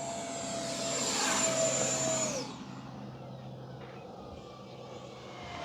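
An FMS F-15 model jet with a 64mm electric ducted fan flies past with a loud, steady, high whine. The whine drops abruptly as the power is cut, leaving a quieter airy rush as the jet glides.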